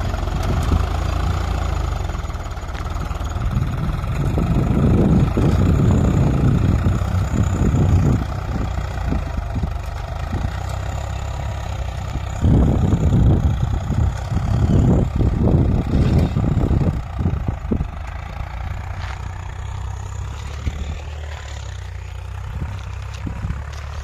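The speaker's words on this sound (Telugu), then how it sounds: "SKG 35లో ట్రాక్టర్తో దున్నుతున్నారు friends." A tractor engine drones steadily while ploughing a field at the SKG 35 site, a loud close rumble that swells in heavier bursts of effort and then settles back to a lower idle-like hum.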